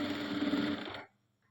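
A sewing machine stitches fabric in a steady, dense mechanical whir close by, running for about a second before stopping abruptly.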